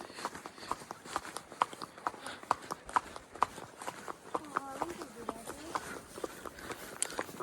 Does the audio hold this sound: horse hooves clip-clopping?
yes